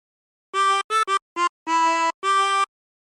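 A 24-hole tremolo harmonica plays a phrase of Yankee Doodle in six short reedy notes, each wavering slightly, with brief gaps between them, close and clear with no voices.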